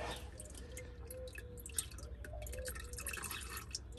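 Castrol 5W-30 engine oil drains from the oil filter housing of a supercharged 4.2 Jaguar XJR X350, a faint, steady trickle with soft drips.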